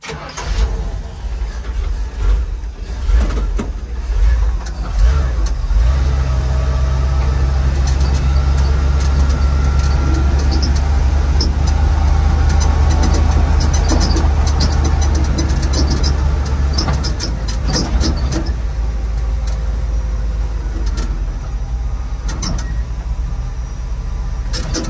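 A 1942 Ford cab-over truck engine cranks and then runs, a loud, low rumble that fills the middle of the clip before settling back to quieter shop noise; no one speaks.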